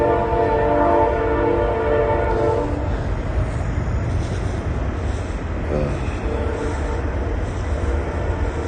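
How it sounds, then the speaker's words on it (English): A train rolls past nearby, its long steady horn blaring for the first couple of seconds before the rumbling clatter of the cars continues. "Not to mention the train that runs along this side."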